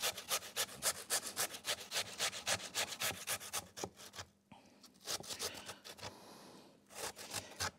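Potatoes rubbed down a hand grater in quick, steady strokes for turkey and potato rolls, a rhythmic rasping scrape repeated close up, with a short pause before the grating resumes.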